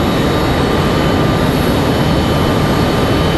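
A Breeze Airways Airbus A220 jet airliner roars at an airport, a loud, steady broadband jet rush filling the whole span without pause, with a thin high engine whine riding on top.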